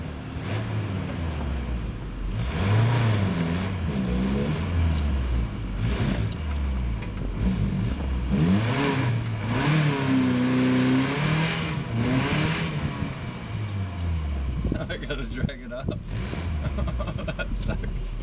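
Truck engine revving hard and straining, rising and falling in pitch over several surges, loud and near, with people talking over it throughout.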